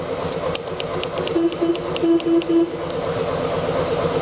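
Engine of an abandoned Volkswagen Beetle, unused for five years, cranking over and failing to start, a steady rhythmic churning drone with periodic clicks and a few short whirring pulses, loud and continuous.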